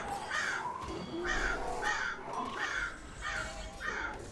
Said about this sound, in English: The crows are out.